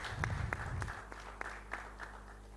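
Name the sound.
audience applause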